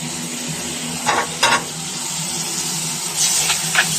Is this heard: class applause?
no